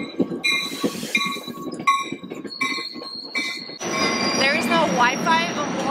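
Amtrak passenger train on the Chicago to Dallas route running along the rails, loud and close, with high wheel squeals and shrieking tones over a rumbling rolling base that swells near the end.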